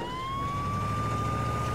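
An ambulance siren from the Family Guy video game wails steadily and loudly with a slowly rising tone, sounding alone and unbroken throughout.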